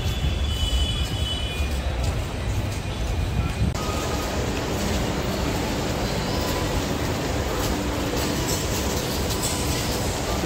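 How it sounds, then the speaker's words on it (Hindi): Metro trains rumble loudly and continuously at Kashmere Gate metro station in Delhi, with clattering wheels and a brief squeal mixed with busy station noise, no talk. "कश्मीर गेट मेट्रो स्टेशन पे एंट्री करते हुए"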